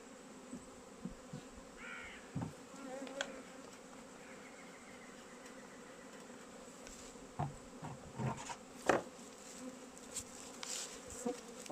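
Honey bees buzz around an open beehive during hive work, a faint continuous hum with scattered closer buzzes and soft knocks, while a crow caws now and then in the background.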